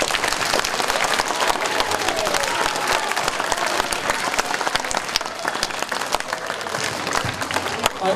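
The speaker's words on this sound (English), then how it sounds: "students, I want you to give our staff a huge round of applause" Elementary students at a morning school assembly applaud their staff, a dense, loud, steady wash of many hands clapping that carries on evenly throughout, with crowd murmur mixed in.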